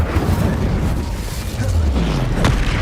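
A fire spell blast in the Hogwarts Legacy video game, a deep booming burst with a rumbling low tail that carries on steadily in the background amid game effects.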